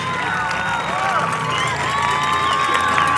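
A crowd at a high school senior awards honor night breaks into steady applause and cheering, with dense clapping and shouts sustained throughout at a fairly loud, even level.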